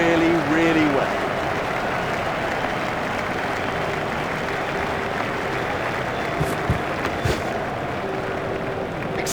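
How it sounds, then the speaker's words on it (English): A stadium crowd in EA Cricket 2007 applauds a batsman's half century, a dense steady wash of clapping and cheering that runs throughout under a commentator's voice. "He deserves the applause from the crowd today."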